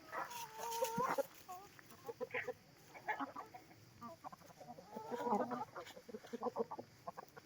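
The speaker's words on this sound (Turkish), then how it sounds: "Horoz mu acaba yoksa başka bir şey mi?" A rooster about two years old clucks and calls in bursts close by, with a few louder squawks and some faint background activity.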